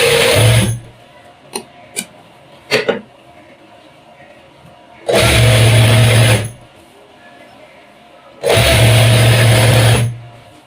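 A sewing machine stitches a gents' shalwar in two loud, separate bursts of rapid needle clatter, each lasting over a second, with quiet gaps between them filled by a few sharp handling clicks.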